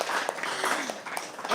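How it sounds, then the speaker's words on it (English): Applause from an audience at a live poetry open mic at The Habitat, a dense, moderately loud patter of clapping running steadily through the moment, with no talk over it. "Give yourselves a round of applause."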